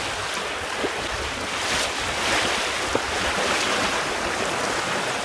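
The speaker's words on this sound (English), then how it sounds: "Just going through a bit of disturbed water here." A trailer sailer sailboat moving through disturbed water over a sandbank, with steady broadband wash and surf, wind buffeting the microphone throughout, and a few sharp knocks of the hull against the chop.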